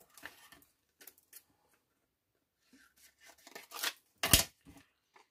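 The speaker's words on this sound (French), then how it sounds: "Je vais être obligée de découper comme ça" Scissors snip through paper while cutting out flower shapes for a card, close and quiet, in short irregular bursts with pauses and one sharper cut near the end.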